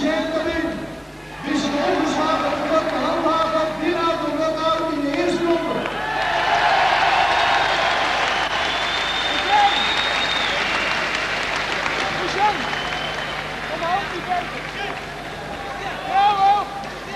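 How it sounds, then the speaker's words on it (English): An arena crowd at a Holland versus Japan kickboxing event bursts into loud applause and cheering after a win, sustained roaring claps beneath excited commentary. "The crowd are delighted"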